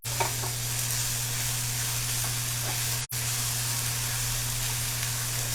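Food sizzles steadily in a hot pan over a constant low hum, with a brief dropout partway through and no voices.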